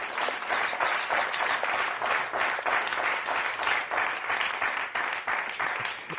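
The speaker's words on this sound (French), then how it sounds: "Nicolas, il vous a applaudi" Studio audience applause on a French TV game show, a steady dense wash of clapping that holds loud for the whole stretch with no voices over it.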